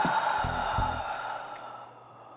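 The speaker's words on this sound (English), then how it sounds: "A few inhales and exhales here." A yoga practitioner takes a deep, audible breath with a soft voiced sigh, then a long exhale that fades to quiet, heard close and alone.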